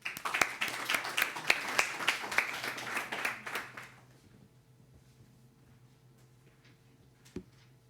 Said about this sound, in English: Edwin, a round of applause, people.